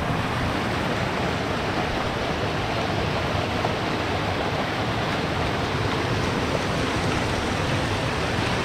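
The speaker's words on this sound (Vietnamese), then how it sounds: "Con suối này" A forest stream flows steadily, its dense, unbroken wash of water holding an even level for the whole stretch with no voices or other sounds.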